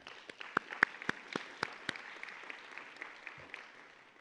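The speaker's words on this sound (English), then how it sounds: "You can clap." An audience at a women's leadership luncheon fireside chat applauds, with a handful of distinct, sharp claps that thin out into scattered, fading clapping.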